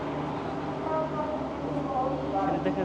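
A passenger train on the Almaty to Astana line in Kazakhstan rumbles and rattles steadily nearby, a continuous low mechanical drone with faint squeals, no speech heard.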